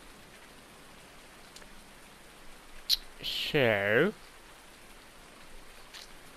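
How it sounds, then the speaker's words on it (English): Steady rain falls outside an open shed as a constant hiss throughout, while someone speaks a single word and a short louder burst of sound rises over the rain midway. "let's get out of the rain"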